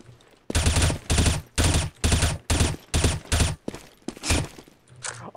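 Rapid gunfire from the video game CS:GO bursts out in about eight loud, evenly spaced volleys, each a short crackling string of shots, then thins into a few scattered ones near the end. No one speaks.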